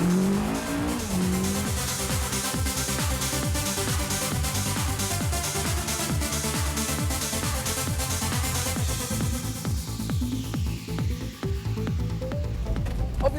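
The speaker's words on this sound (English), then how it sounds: "So it looks like a race car, it sounds like a race car" A 2001 Lotus Exige sports car engine roars continuously at close range, revving and shifting through gears with a raspy, aggressive note and occasional tyre squeal.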